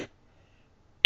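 A single short throat clearing from someone getting over a cold comes after a brief near-silent pause, close and fairly loud.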